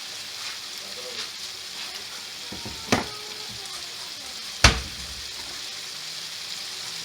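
Potatoes frying in a pan give a steady soft sizzle, with two sharp clinks of a utensil against the pan partway through and no talking.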